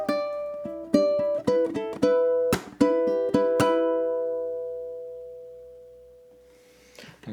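Ukulele playing bar 8 of a theme riff, a quick run of plucked notes and sharp strums ending on a ringing chord that slowly decays, close and clear with no voice.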